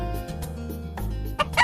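A chicken in the video game Heartbeat clucks in short, repeated bursts over background game music, close and moderately loud.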